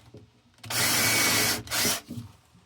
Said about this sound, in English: Drill the hole for the screw chuck.